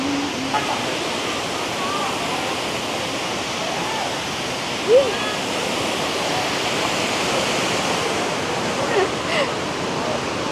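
Kok Idok waterfall in Saraburi, Thailand, pours with a steady, dense roar of rushing water that fills the whole stretch at even loudness, close and unbroken.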